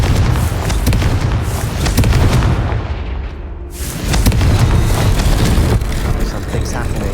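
A Confringo explosion spell cast in Hogwarts Legacy, heavy rumbling booms and crackling bursts that fill the scene loudly, swelling again after a brief dip, with a voice speaking over the din.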